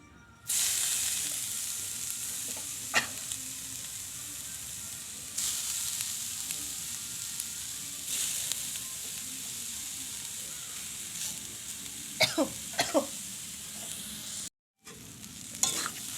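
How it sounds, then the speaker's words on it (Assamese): Grated coconut roasts in a hot wok while a spoon keeps stirring it, a long, fairly quiet sizzle broken by scraping clatters and a few sharp knocks near the end, with one brief gap of silence. "নাৰিকলটো যাতে তলিত ধৰি নাথাকে সেইটো কাৰণে ধুনীয়াকৈ লৰাই থাকিব লাগে।"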